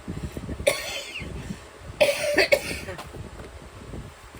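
A person coughs a couple of times, a short fit followed by a harsher cough a second later, over faint background noise.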